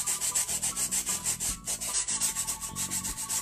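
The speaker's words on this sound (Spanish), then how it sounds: "Siempre vamos a meterle un poco de lija al unicel o al icopor." Sandpaper rubbed on styrofoam in quick, even back-and-forth strokes, a close, soft rhythmic scratching with no talk.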